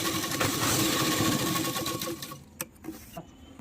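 A sewing machine runs a lock stitch on a petticoat with a loud, close, steady whir for about two seconds, then slows and stops, leaving a few small mechanical clicks.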